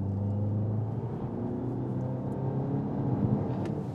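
BMW X1 engine revving up under acceleration, a steady low droning hum with rising tonal pitch, heard from inside the car at moderate level with no talk.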